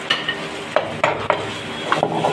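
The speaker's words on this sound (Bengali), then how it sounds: "ওই গাজর, পাতাকপি, ক্যাপসিকাম তিনটাকে আর একটু ভালো করে নেড়ে চেড়ে ভেজে নিতে হবে।" Carrot, cabbage and capsicum being stir-fried in a pan for restaurant-style noodles, with several distinct scraping stirs against the pan over a soft background sizzle.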